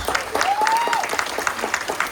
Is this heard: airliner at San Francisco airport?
no